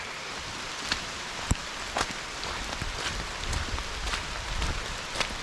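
Steady rain falling all around on a trail winding down toward a flooded creek, a dense hiss with scattered sharper drops tapping nearby surfaces, no voices.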